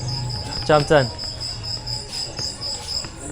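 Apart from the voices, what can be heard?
cricket chirping indoors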